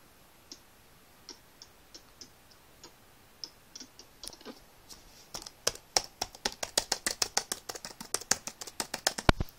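Keys clack on a computer keyboard, sparse isolated taps at first that quicken into a steady, rapid run of clicks, close and fairly quiet with no voices.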